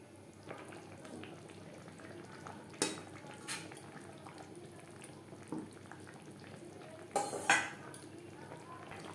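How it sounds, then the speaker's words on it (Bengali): A spoon stirs fish into a simmering gravy of summer vegetables in a cooking pan, giving quiet bubbling with a few sharp clinks of utensil against metal. "গ্রেভির সাথে মাছ বেশ ভালো করে মিক্সড করে দেবো"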